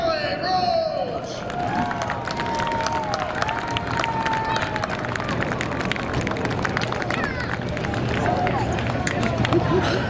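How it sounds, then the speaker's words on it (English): Crowd applause and cheering at a short-track speedway victory lane after a Late Model feature, a steady wash of clapping and voices with engine-like tones and a public-address voice over it. "How about a round of applause for Charlie Rose?"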